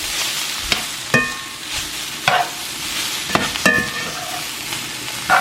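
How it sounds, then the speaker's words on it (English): Jerk-seasoned jackfruit sautés in a pan over medium-high heat, a steady sizzle broken by several sharp scrapes and clanks of stirring that recur every second or so, close and fairly loud with no talking. "we'll let the seasoning saute for another 5 minutes"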